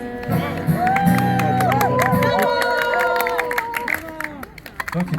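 Crowd applause and cheering at an outdoor AZS club picnic at sunset, clapping mixed with voices and some music-like tones, continuous and fairly loud before thinning out toward the end.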